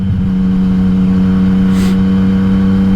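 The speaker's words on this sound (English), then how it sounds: "that exhaust is way too loud" A Yamaha XSR900 motorcycle with a loud Akrapovic exhaust runs at a steady, loud drone with a strong low hum and barely changing pitch.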